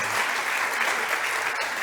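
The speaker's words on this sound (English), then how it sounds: "Big applause for Anna." Audience applause at a startup competition stage event, steady sustained clapping from a crowd, loud and even throughout with no voices over it.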